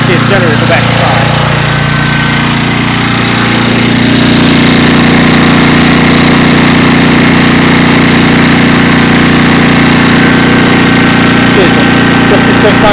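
A 5600 watt portable generator engine runs nearby, a loud, steady, unbroken mechanical drone with a constant hum throughout.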